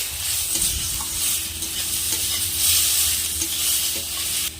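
Ginger paste and chopped tomatoes frying in a pan, a close, steady sizzle with stirring scrapes and soft knocks of the spoon.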